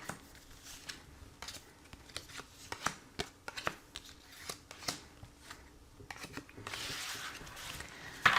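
A tarot deck shuffled and cards drawn, a close run of soft papery riffles, slides and taps with uneven rhythm, ending in a denser rustle as the cards are spread, quiet and with no talking.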